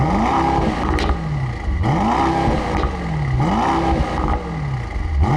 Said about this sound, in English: This engine has a good sound. Take a listen to the exhaust note.